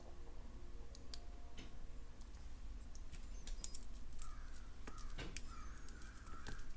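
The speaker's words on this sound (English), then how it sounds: "I guess we have some crows outside." Faint crows caw a few times outside in the distance over a steady background hum, with light clicking sounds close by from jewelry making.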